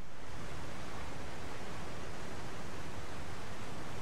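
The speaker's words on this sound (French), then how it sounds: "toutes les cascades de vases coulent des ruines qui se trouvent là-haut" Mud waterfalls pour from ruins in Zelda: Tears of the Kingdom, a steady, dense, loud roar of rushing liquid with no breaks and no speech.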